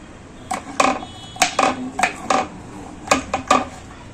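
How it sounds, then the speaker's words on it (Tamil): Sharp knife taps on a cutting board, cutting almonds lengthwise into slivers, a series of quick irregular chops close by, with brief pauses between them. "இந்த மாதிரி பொடியே நீள நீளமா நறுக்கிக்கோங்க"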